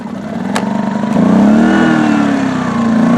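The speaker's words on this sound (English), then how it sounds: "Fired right up on the first try." A Duromax XP2000EH dual fuel inverter generator running on gasoline starts with a quick pull and settles into a steady mid-pitched engine drone that rises slightly and holds, loud and close, with no talking.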